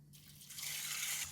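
Water drains off washed red beans in a basin, a short rising hiss and trickle that swells, holds steady for under a second, then eases off.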